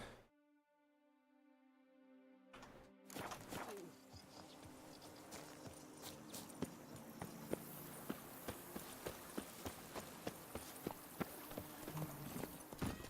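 Horse hooves clip-clop in The Witcher 3: Wild Hunt, a steady walking rhythm of close, distinct hoofbeats that starts after a brief musical tone and continues alone to the end.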